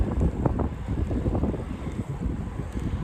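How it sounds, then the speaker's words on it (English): Steady low rumbling wind buffeting the microphone on a bike ride along the Great Miami River, loud and continuous throughout with no voices. "it's gotten kind of windy along the river here"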